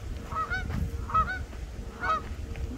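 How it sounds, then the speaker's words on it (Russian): Geese honk in three separate bursts, calling from a short distance over a low rumble of background noise, on a lakeside beach in Minnesota in autumn. "Ой, гуси. Гусей напугали."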